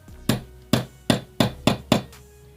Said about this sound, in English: you want to take your steel nail and your hammer